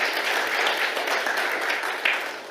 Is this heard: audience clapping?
yes